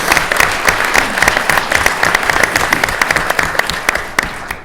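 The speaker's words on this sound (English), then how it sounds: "Let's give Sherry a round of applause." A round of applause at a state cabinet meeting, a lively burst of clapping from a modest group with distinct sharp individual claps, steady throughout and fading slightly at the end.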